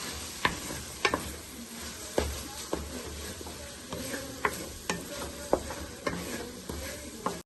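Rice with water and tomato paste being stirred in a pot for chicken biryani, a spoon scraping in repeated soft knocks and swishes at a steady rhythm, close and fairly quiet with no talking.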